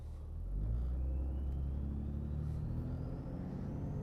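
Dodge Ram pickup with a Cummins diesel and nearly a million miles rumbles along a neighborhood block, a steady low engine drone with road noise from inside the cab, no talking.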